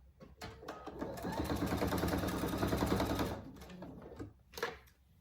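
Sewing machine running a continuous stitch along a dog collar strap, a steady rapid mechanical chatter lasting a few seconds, bracketed by short start and stop bursts and a brief back-stitch burst near the end.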